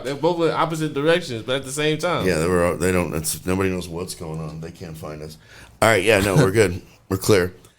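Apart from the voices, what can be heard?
No everyday noise stands out behind the speech.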